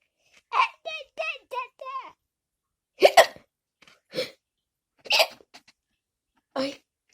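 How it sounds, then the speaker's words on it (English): A young child hiccups again and again, short sharp squeaky gulps coming in quick bursts, sometimes several close together and then singly with pauses between, near and clear in a quiet room. "I got the hiccups."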